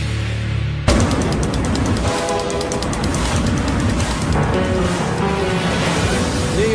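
A New York subway train roars in abruptly after a brief quieter moment, then rumbles and clatters loudly and steadily along the rails, with a faint tonal squeal rising partway through.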